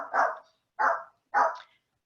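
Three sharp barks from a single nearby dog, evenly spaced with short silent gaps between them, loud and clear with no talk.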